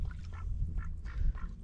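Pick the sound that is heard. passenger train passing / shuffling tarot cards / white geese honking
white geese honking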